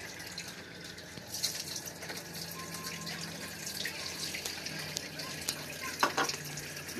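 Water pouring from a kitchen tap into a measuring cup for a recipe, a steady faint running stream with a brief louder splash near the end.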